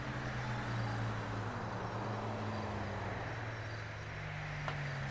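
Custom Volkswagen Beetle rat rod with turbocharged engine, a steady low engine drone whose pitch rises and falls slightly as it revs, loud and continuous with broadband road-like noise, no voices.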